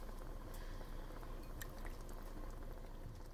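Shrimp simmer in coconut curry, giving a low steady bubbling with faint liquid pops throughout.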